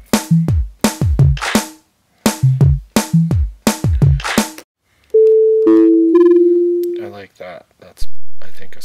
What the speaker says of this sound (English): That's, I think, a sine wave.